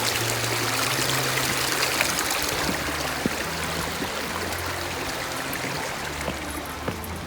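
A creek flows and splashes with a steady, fairly loud rushing and trickling wash during a crossing, close by and continuous, with no talk over it.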